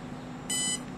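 A short, high electronic beep tone from a radio-control electronic speed controller during programming, lasting about a third of a second, bright and steady over a low background hum.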